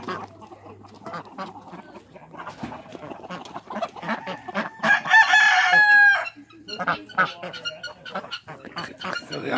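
Young chicks and chickens on a historic Doukhobor farm cluck and chirp close by, with a loud burst of crowing midway, while people talk intermittently.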